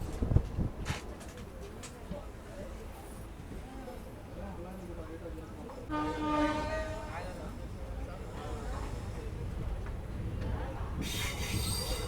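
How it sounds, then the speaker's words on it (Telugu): A Palnadu Superfast Express train pulls away from Nagireddipalli station with a rumbling roll, a brief wheel squeal midway and rising noise toward the end, while someone talks over it. "నాగిరెడ్డిపల్లి నుంచి డిపార్ట్ అయింది మన ట్రైన్"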